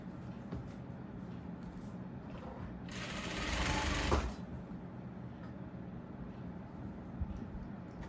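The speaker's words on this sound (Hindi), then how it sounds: "किनारे पे आप सिलाई लगाइए इसकी।" A sewing machine runs in one steady burst of about a second, stitching along the edge of a pocket on ladies' trousers or palazzo pants. A low background hum continues before and after the stitching.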